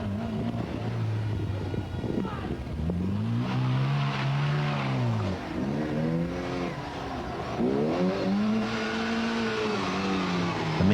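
A 1300 Ford Escort rally car at the 1982 Kerry Single Stages Rally revs hard and shifts through its gears, engine pitch rising and dropping repeatedly as it races past close by.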